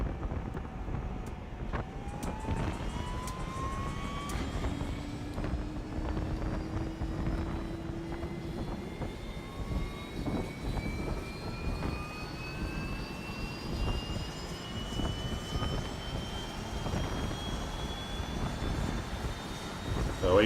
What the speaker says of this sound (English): So APU is firing up.